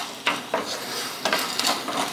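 Lemon rice mixture stirred in a pan, a spoon scraping and knocking in irregular strokes with a soft sizzle underneath, close and fairly loud.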